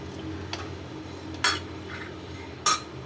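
Tomato rasam is stirred in a pot, with two or three sharp metallic clinks of a spoon against the rim over quiet room tone. There is no talk.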